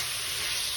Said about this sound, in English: The fastest of sears on this steak right now.